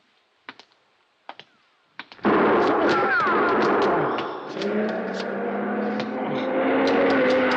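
Gunshot sound effect in a radio drama set in an alley after a safe robbery: a few sharp, separate cracks ring out close and loud, then a dense, sustained burst of noise follows and carries on to the end.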